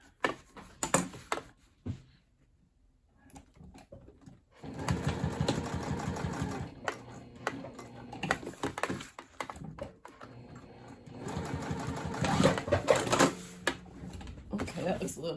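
A home sewing machine restitches a skipped corner seam on a tote bag, running in short bursts of rapid mechanical stitching with pauses between, close by, and a person talking between the runs.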